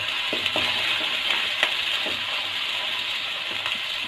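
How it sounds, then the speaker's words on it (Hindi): Sliced onions fry in a cup of hot oil in a home kitchen, a steady bright sizzle with a few faint clicks and clinks of utensils, close and continuous. "ऑयल 1 कप ऑयल लिया, उसमें हम प्याज डालेंगे।"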